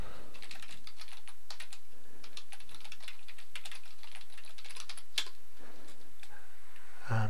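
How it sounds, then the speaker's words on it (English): Steady typing on a computer keyboard, with rapid close key clicks running continuously and no talking over them. "going to type this here"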